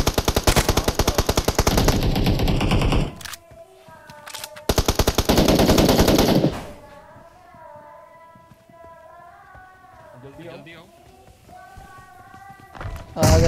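M4 rifle gunfire in PUBG Mobile: two long, loud sustained automatic bursts, then a quieter stretch with a voice and tonal game sounds, and a final short burst.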